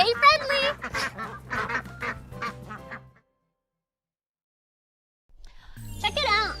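Ducks and geese quack and honk in a rapid, close chorus, cut off by a silent gap and then resuming briefly, with a voice talking alongside.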